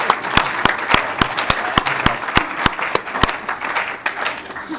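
A small group claps at a Federal Way city council regular meeting, sharp distinct hand claps in a fairly steady rhythm, close and moderately loud, thinning toward the end.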